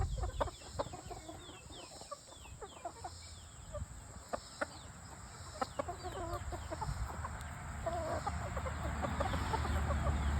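Chickens at a hatchery cluck and chatter at close range, with scattered sharp peeps and scratchy movement over a constant hum of ventilation fans, no voices.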